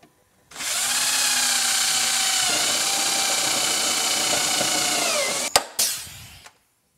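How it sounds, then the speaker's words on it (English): A pneumatic or power tool whirs steadily for several seconds while riveting running boards onto a Ski-doo REV 700 snowmobile, its pitch dropping midway, then a few sharp clicks and a short final burst as it stops. "So I'm just gonna rivet the boards on from the bottom"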